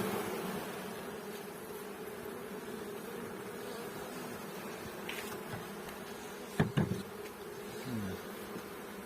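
Honeybees buzz steadily around a beehive at a spring apiary, a continuous low drone with a few louder passes as single bees fly close, no talking.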